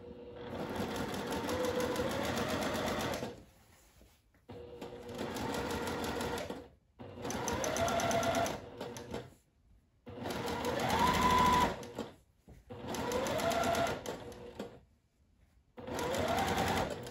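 A sewing machine stitches the casing of a cotton sundress in five close bursts of rapid mechanical whirring, separated by short pauses, each run steady and even.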